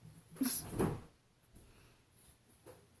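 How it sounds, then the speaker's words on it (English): Soft knocks and light clattering thuds of cats playing with toys in a quiet room, a couple of brief louder bumps early on, then faint scattered rattles. "my cats are like playing with toys"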